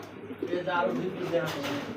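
Pigeons, including Jacobins, cooing softly at a pigeon market in a brief, quiet burst of throaty coos beneath close talk.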